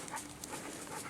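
A hunting dog pants steadily with quick rhythmic breaths, close and fairly faint, out on a deer tracking search, with no talk.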